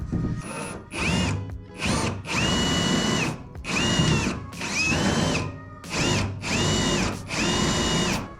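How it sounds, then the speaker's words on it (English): A power drill whirs in repeated bursts, spinning up and down with short pauses between, close and loud, drilling into a boat's deck frame. "Get a couple drills in."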